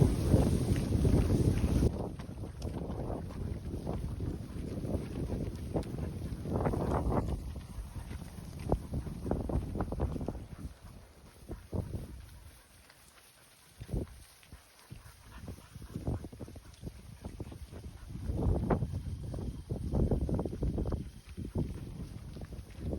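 Wind gusting across an open ranch hillside during cattle work, rough buffeting rumble on the microphone that swells and fades over the whole stretch, with faint knocks and clatter underneath.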